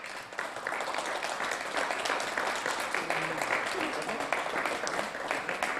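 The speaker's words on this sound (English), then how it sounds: "A round of applause, please, for Jack Ashton" Audience applause for second-place sim racing driver Jack Ashton at a Red Bull Ring round, steady dense clapping that holds evenly for several seconds, with faint voices underneath.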